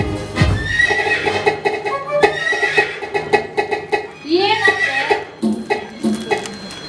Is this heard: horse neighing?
yes